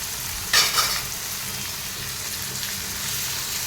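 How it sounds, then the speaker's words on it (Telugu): Chicken pieces tipped into a pan of cooked tomatoes for a curry, giving a brief burst of sizzling at the start, then a steady low frying hiss as everything is stirred. "టొమాటోస్ కూడా కలుపుకున్న తర్వాత చికెన్ వేస్తున్నాను."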